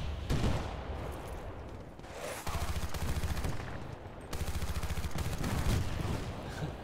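Sustained automatic gunfire in Battlefield Bad Company 2, dense rapid bursts running nearly continuously at high loudness with overlapping shots and no voices.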